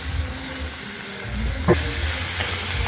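Chopped sweet potatoes sizzle and hiss in a hot heavy cast iron pot, a steady frying crackle with a brief clatter of stirring partway through.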